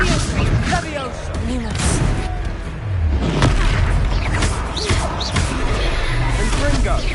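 Confringo fire-spell explosions in a video game: heavy booming blasts and crashes burst repeatedly over a dense, busy soundscape, with murmuring voices mixed in.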